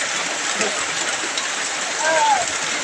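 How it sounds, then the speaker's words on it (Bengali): Heavy rain pours steadily in a dense, even hiss, with a voice faintly heard partway through. "বৃষ্টি আসলে প্রচুর পরিমাণে হচ্ছে"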